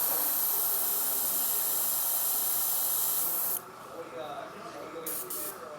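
An airbrush with its needle removed sprays out red paint in a loud, steady hiss that stops abruptly, leaving quieter room noise and a few soft bumps.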